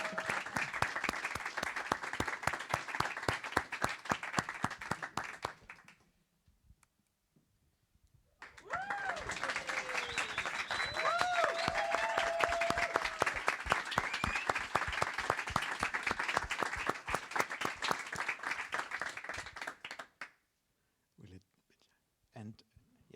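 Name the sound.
conference audience applause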